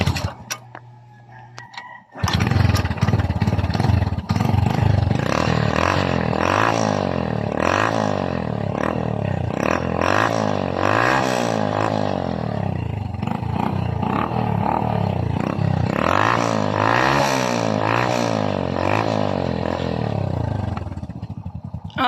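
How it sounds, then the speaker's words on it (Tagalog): A Honda XRM 110 motorcycle engine, just repaired after a fault where it started then died, roars at full throttle, loud and close, with repeated rising and falling revs after a brief quieter idle at the start. "na-accelerate na natin at na-full throttle na natin ang kanyang silinyador"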